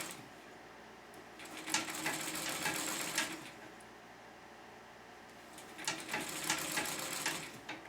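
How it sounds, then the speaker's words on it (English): Treadle sewing machine stitching quilt binding, two bursts of rapid mechanical clatter separated by a quieter pause, steady and close. "Part of the advantage for me of using a treadle is that it's easier for me to go slow."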